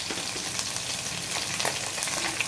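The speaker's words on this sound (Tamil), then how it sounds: "ஆனியன் நல்லா ஃப்ரை ஆயிடுச்சு." Onions frying in a pan with green chilli and curry leaves for varagu semiya upma, a steady close sizzle with faint crackles and stirring scrapes, no talk.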